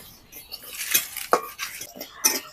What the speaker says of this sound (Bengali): এই মশলাটাকে শুকনো কড়াই ভেজে নেব